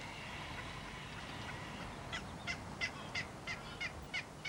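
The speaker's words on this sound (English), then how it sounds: "On the same islands, frigate birds breed, the males displaying to attract females with their inflated throat pouches." Frigate birds displaying at an island breeding colony, a series of about seven evenly spaced rhythmic calls standing out against a soft background hiss of the colony.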